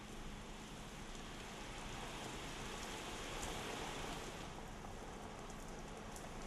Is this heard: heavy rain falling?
yes